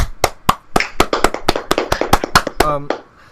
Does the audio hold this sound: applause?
yes